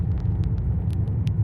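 Car on the road in sunshine, heard from inside as a steady low engine and road rumble with faint ticks and rattles, without speech.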